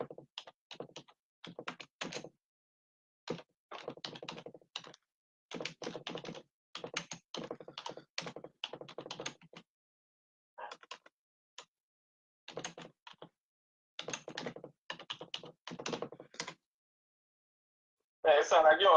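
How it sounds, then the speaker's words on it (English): Bursts of clacking keystrokes on a computer keyboard, heavy and clattery like an old typewriter, coming in quick irregular runs separated by pauses, close and fairly quiet, with a brief louder sound at the very end. "it sounds like you're on an old school typewriter"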